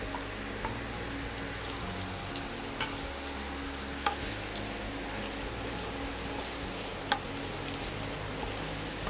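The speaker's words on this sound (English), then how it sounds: "Now fry until the onions become a little translucent." Finely chopped onions frying in ghee for a vegetable pulao, giving a soft, steady sizzle with a few sharp crackles and pops scattered through it, fairly quiet and with no voices.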